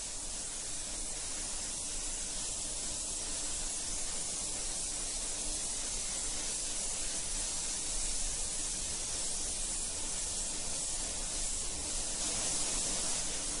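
A spray gun lays light, transparent paint coats onto a car, a steady, even hiss that carries on uninterrupted for over ten seconds, close and fairly soft, with no talking.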